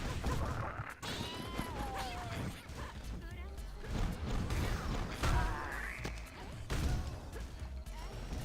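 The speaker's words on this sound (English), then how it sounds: "they actually just recorded a cat from like outside their office and just like used that audio" Goblin cries in an action video game, made from a pitched-down cat recording, give wavering meow-like wails amid creaks, thuds and clashing game effects.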